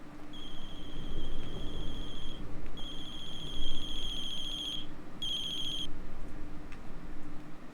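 A telephone rings in the horror game Chilla's Art: The Closing Shift, bright electronic trill in three bursts with short gaps, fairly loud over a low steady room hum, no talking.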